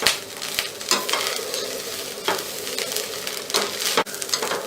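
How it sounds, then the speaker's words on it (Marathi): Grated coconut is sautéed in a pan, giving a steady sizzle with occasional scraping stirs of a spoon against the pan. Close and even, with no talk. "नारळ घालून चांगलं परतून घेऊया"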